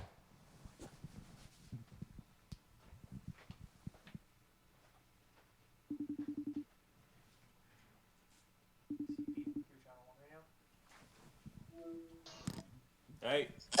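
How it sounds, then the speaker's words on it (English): Ringing tones of a telephone call-in line, two steady buzzing bursts separated by silence, with brief connection beeps afterward and speech before and after. "I'm going to dial in Purari"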